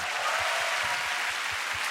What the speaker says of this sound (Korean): 박수 좀 부탁드리도록 하겠습니다